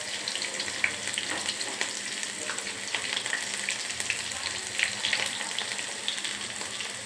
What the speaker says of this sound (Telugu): ఆనియన్స్ వేస్తున్నా.